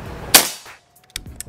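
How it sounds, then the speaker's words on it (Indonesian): A single sharp PCP air rifle crack from a Ghost Warrior with a 360cc air reservoir, close and loud, followed by a brief quiet and a couple of small clicks and taps. "kita coba 10 kali tembakan lagi"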